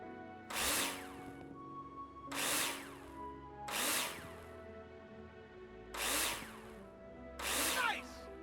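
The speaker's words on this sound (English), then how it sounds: "Take your drill out and screw them in." Power drill screwing into plasterboard in the construction game Builder Simulator: five separate whirring bursts, each about half a second long, spaced evenly over a quiet background hum.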